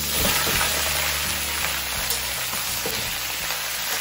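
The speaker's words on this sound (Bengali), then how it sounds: "কেটে রাখা আলু পেঁয়াজ আর কুদরি অ্যাড করে দিলাম" Potato, onion and ivy gourd sizzle and crackle in hot oil, a steady frying hiss with occasional pops and stirring sounds.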